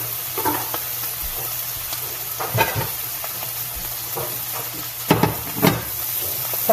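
Meat sizzling and frying in a pan with a steady hiss, punctuated by occasional stirring scrapes and clatters of a utensil against the pan, close and continuous.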